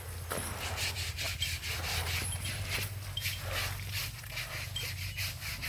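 A child's body is scrubbed during a bath, giving a steady rough rubbing and scraping noise that continues close up and fairly loud throughout, with no clear speech.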